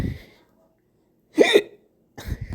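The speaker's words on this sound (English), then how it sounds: "I don't like hiccups." A person hiccups loudly and close, producing a sharp voiced gulp alone in silence, with other brief vocal sounds just before and after it.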